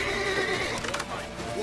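A horse whinnies loudly close by in The Witcher 3: Wild Hunt, its call mixed with clattering hooves and a busy game soundtrack.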